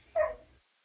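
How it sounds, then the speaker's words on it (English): A single short dog bark or yip, close and fairly loud, from one of two dogs playing and fighting over the same toy in a backyard, then quiet. "I got two dogs playing in the backyard."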